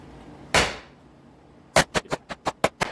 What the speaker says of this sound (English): you want to hammer right in there